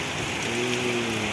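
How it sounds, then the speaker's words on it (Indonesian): Rain falls steadily at night over a flooded village, a dense, even hiss of drops hitting water and surfaces, loud and close, with a faint low tone drifting underneath and no talking. "Oke teman-teman, hujannya semakin kuat."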